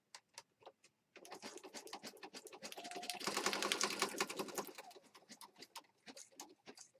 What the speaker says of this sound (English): now I think what I want to do is stitch around this edge